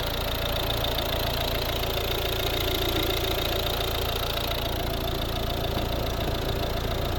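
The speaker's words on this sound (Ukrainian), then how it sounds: "Ось робота двигуна." A 2013 Volvo V60 with a 1.6 D2 diesel and manual gearbox idles steadily, a constant low engine hum with an even, unchanging level throughout.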